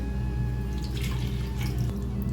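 Water trickles into freshly ground dosa batter made with tomato and potato, a faint, soft running pour over steady low background hum.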